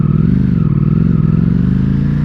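A Ducati Panigale V4S motorcycle engine, not yet warmed up, runs loud and close with a deep, steady throbbing rumble and a rapid pulsing beat that holds without revving.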